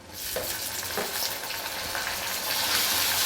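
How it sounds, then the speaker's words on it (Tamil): Tomatoes and onions fry in a pan for Tamil fish kuzhambu, making a dense, continuous sizzle that swells slightly toward the end, with faint scraping of stirring underneath. "தக்காளி நல்லா வதங்கட்டும்"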